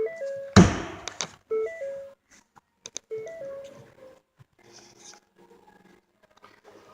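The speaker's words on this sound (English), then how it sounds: "Here's how you open the hood." Opening the hood of a 2018 Ford Mustang 2.3 EcoBoost brings a single loud latch thunk, followed by stepped electronic chime tones and a few light clicks and taps.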